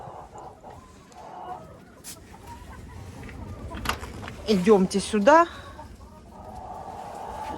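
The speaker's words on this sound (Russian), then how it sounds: "Вот так вот купаются в песочке куры здесь." Backyard hens dust-bathing in sand give a few soft clucks and a brief burst of louder squawking calls, with someone speaking briefly nearby.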